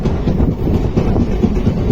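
The Wodeyar Superfast Express pulls into Mandya station with a loud, close, steady rumble and dull rhythmic knocking of the wheels.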